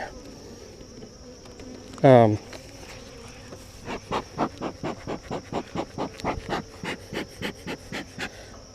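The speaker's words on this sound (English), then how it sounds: "as many bees up here working as there was in the past" Honeybees droning at an open hive during an inspection on a cool day: a steady high buzz runs throughout under a brief sharp rising squeal and then a run of rhythmic, breathy pulses close by.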